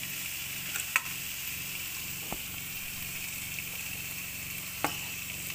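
Chicken and onions frying in a pan, an even, close sizzle throughout, broken by a few soft clicks and taps of a utensil.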